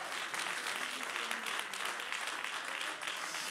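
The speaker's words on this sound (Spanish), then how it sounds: "Dele otro aplauso a su presencia." Congregation applause during a church sermon: a steady, dense roar of many hands clapping at once, close and loud, sustained without a break for a few seconds.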